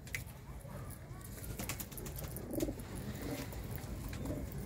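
Low pigeon coos rise in short bursts from fine-bred pigeons gathered for sale in Ludhiana, fairly quiet against steady background noise and scattered clicks.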